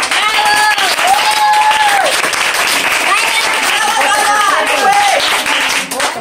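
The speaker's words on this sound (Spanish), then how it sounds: "Aplauso para la Wendy, pues." Audience applause and cheering for a queen candidate at a 2017 pageant, loud continuous clapping with whistles and voices mixed in, close and full.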